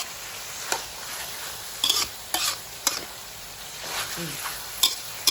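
Chicken and young chillies stir-fried in a pan, with sharp scraping strokes of a spatula at irregular intervals over a steady close sizzle.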